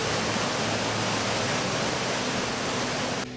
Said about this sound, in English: the creek has a lot of melting water and is a mighty wild stream with many cascades and smaller waterfalls